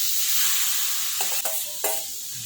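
Carrots roasting in ghee in a kadai give off a steady, close sizzle, with a few short scraping stirs breaking through near the end.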